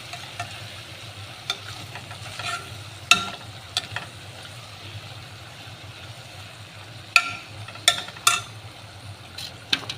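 Broad beans and tomato frying in a pan with freshly ground masala, a steady low sizzle throughout with occasional sharp clinks of a spoon stirring against the pan.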